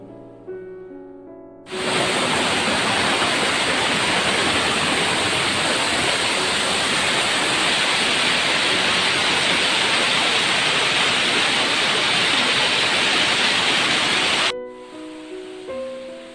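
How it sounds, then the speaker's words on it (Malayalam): A small waterfall in Manjeri, Malappuram, roars as a loud, steady rush of falling water for about thirteen seconds, with light background music briefly before and after. "നമ്മുടെ നാട്ടിൽ ചെറിയൊരു വെള്ളച്ചാട്ടം, ചെറിയൊരു വാട്ടർഫാൾ"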